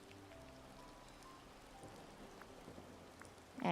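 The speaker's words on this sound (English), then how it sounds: "And here we go with the rain again." Rain in the video game Disney Dreamlight Valley, a soft steady patter of drops on surfaces, faint and continuous, with a louder burst at the end.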